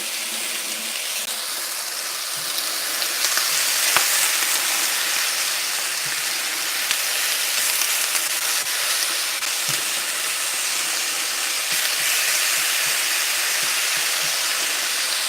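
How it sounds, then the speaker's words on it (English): Vegetables sautéing in a pan for an Italian sausage casserole, a loud continuous sizzle with faint occasional clicks beneath it. "So I'm going to also saute them."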